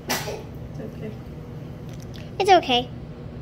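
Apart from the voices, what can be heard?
sneeze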